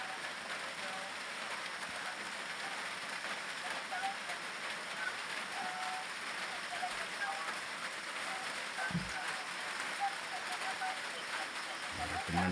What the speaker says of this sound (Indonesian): Sekarang cuaca memang tak menentu sebab hujung tahun ni memang hujan